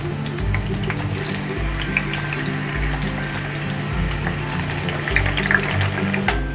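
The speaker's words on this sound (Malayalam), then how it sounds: "അപ്പോൾ നമുക്കിത് ഫ്രൈ ചെയ്തെടുക്കാം" A vegetable for an Arabic biryani garnish fries in hot oil with a constant bubbling sizzle and a low pulsing hum underneath, close and fairly loud.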